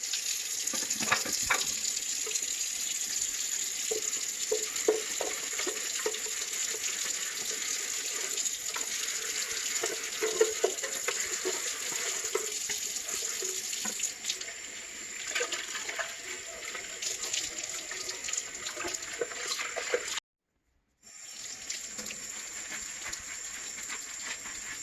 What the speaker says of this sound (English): just use hot soapy water. Wash the blade and wash the inside of the kneading bowl.